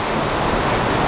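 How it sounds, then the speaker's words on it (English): Rainwater rushes down a drain in a continuous broadband wash, like steady surf or wind, with no pauses and no voices over it. "Look how much water's running down the drain."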